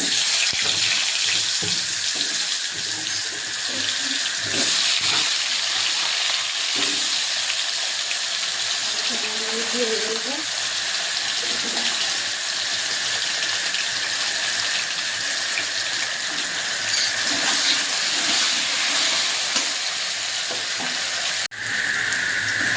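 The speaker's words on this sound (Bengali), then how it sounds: "একটু তেল দিয়ে দিয়েছি, এবার আলুগুলো ভেজে নেবো।" Potatoes frying in oil in a home kitchen pan, a loud, steady sizzle lasting throughout with occasional stirring scrapes and no talk.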